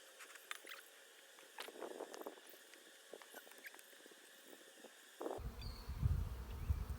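Honey bees inside an open hive among the frames after a little smoke, a faint buzzing hum with scattered crackles and brief close wingbeats, ending in a louder rumbling rustle.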